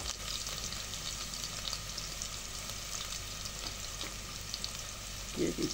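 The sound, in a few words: sautéing pounded garlic and shallots in pan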